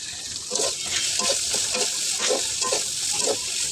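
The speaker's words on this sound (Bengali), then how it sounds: "একটা প্যান বসিয়ে তাতে সবজিটাও বসিয়ে দিলাম।" Mixed vegetables for noodles fry in a pan with a steady hiss of sizzling, broken by rhythmic stirring scrapes and no speech.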